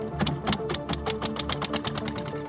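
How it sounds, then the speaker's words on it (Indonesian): Diesel engine of a sekonting fishing boat running, a rapid steady knocking chug with regular sharp pulses and a droning mechanical hum, loud and close throughout, with no talking. "Mesin diesel terus menderu"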